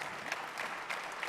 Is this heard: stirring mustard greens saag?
no